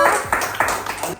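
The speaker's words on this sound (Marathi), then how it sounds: "टाळ्या वाजवा." Short burst of several sharp hand claps from a small group, four or five quick beats close by, at a baby naming ceremony in honour of the chef who cooked the food from scratch.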